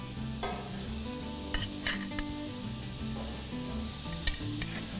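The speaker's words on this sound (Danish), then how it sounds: "Der er godt gang i den allerede." Pork spareribs sizzle on a hot outdoor grill, a steady close crackling hiss with a few small pops, and no voices.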